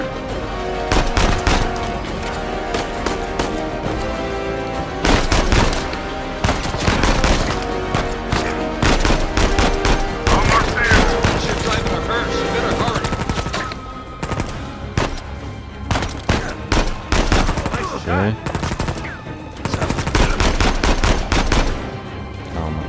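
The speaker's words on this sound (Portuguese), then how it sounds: "Calma a dar os tiros, mano." Sustained gunfire from the video game Uncharted 4: A Thief's End, with rapid bursts and repeated shots layered over game music and booms, loud and continuous throughout.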